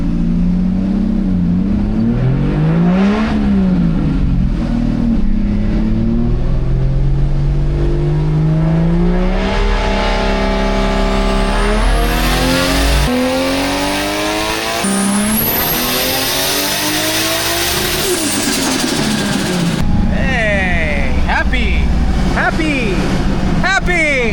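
A Toyota MkII with a 1JZ engine revs hard on a dyno, its loud engine note climbing and falling through repeated pulls, then sweeping up to a high-pitched scream, with voices talking over it.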